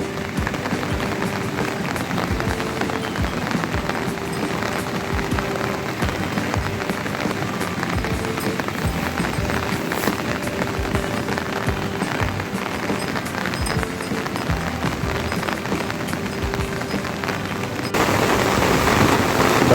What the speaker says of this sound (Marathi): पावसाला बी छान सुरुवात झाली आहे पाऊस बी भरपूर लागतो आहे